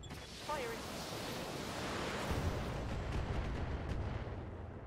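Artillery fire in the video game Battletech, played with the Advanced 3062 mod: low, rumbling booms and a dense roar of battle noise, with a voice faintly underneath.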